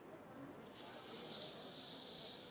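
A Kryolan makeup spray can lets out a steady, airy hiss that starts abruptly and holds for about two seconds, faint and close under a low room background.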